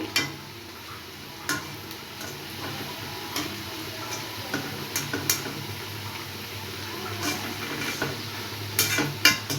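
Pumpkin flower fritters fry in hot oil with a low continuous sizzle, broken by scattered clicks and taps of a utensil against the pan, some sharp and close.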